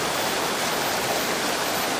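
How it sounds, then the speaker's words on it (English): A small waterfall in a river in Thailand pours as a constant, loud, full rush of splashing water, close by and uninterrupted, with no voices present. "There's a little waterfall here."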